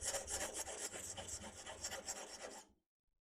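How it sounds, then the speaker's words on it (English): A knife is drawn across a medium coarse, medium fine sharpening stone in a steady, gritty rasp of quick back-and-forth strokes, close and fairly quiet, stopping abruptly near the end. "This is sort of a medium coarse, medium fine sharpening stone."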